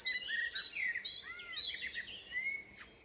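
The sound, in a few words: blackbird singing at dawn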